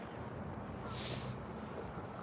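Steady wind rushing across the microphone, a constant broadband roar with no voices.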